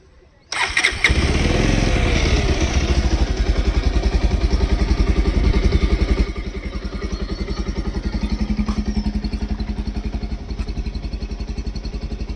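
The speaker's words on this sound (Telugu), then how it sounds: "ఇప్పుడు ఒకసారి బైక్ సౌండ్ అయితే చూసుకుందాం" A Bajaj Pulsar 150 motorcycle, freshly serviced, starts up with a sudden loud burst after a brief quiet, runs at a steady raised throttle, then settles to a slightly softer, even idle throb close by.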